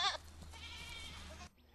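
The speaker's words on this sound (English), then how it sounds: "about 35 sheep and goats are doing their job, which is to eat away at invasive vegetation on about 8 acres." Goats and sheep graze on wetland vegetation, with a faint bleat heard at a distance over a steady low background that cuts off near the end.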